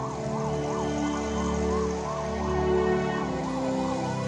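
Wailing ambulance siren sweeping steadily up and down in a continuous cycle, fairly close and loud over a low engine rumble, with no voices.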